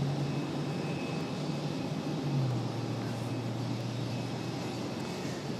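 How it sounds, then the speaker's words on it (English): A Delta Boeing 737-9 prepares for departure at Raleigh-Durham International Airport, its engines giving a steady, moderately distant hum with a low tone that dips slightly partway through and then holds. "Got a Delta 737-9 getting ready for departure here"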